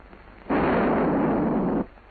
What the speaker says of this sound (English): The grenade is now hot. After he's let go of the safety arm, it'll detonate in 5 seconds.